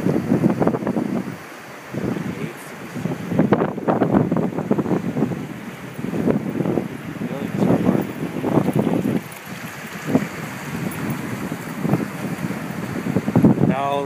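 Ocean waves washing over rocks at the shore, heard as repeated surging rushes and hissing washes in irregular swells, close and fairly loud, with wind buffeting the microphone.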